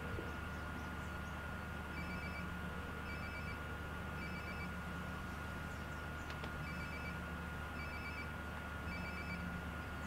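A mobile phone rings in Life Is Strange: Before the Storm, with faint repeated pairs of electronic chirps in an even rhythm over a constant low background hum.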